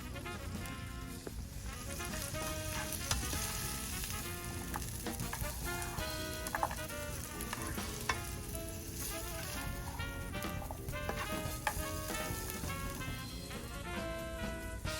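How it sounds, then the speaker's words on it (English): Bell peppers sauté in a hot pan, giving a continuous, fairly faint hiss and crackle that holds steady throughout, with no voices. "We're going to let that saute for about 2 minutes till it's nice and tender."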